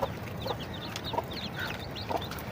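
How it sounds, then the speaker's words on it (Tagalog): A native hen clucks and chirps in short repeated calls near her newly hatched chicks, over a noisy, rustling farmyard background. "Yung manok natin dito mga paps ay namisa na, bumaba na siya."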